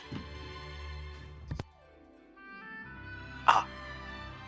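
A single sharp sneeze bursts out close by, breaking a quiet stretch with a faint hum in the background.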